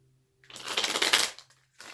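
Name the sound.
tarot cards being shuffled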